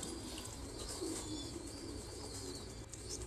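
Many pigeons coo at a Vietnamese pigeon farm around feeding time, a continuous chorus of low, soft coos layered with faint chirps and background rustle, no talk.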